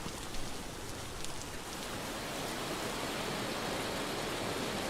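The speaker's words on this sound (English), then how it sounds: "this looks like hail. It's so loud, I'm so sorry." Loud, steady hail in the survival game Vintage Story, a dense, even hiss of countless small impacts that swells slightly and holds without pause.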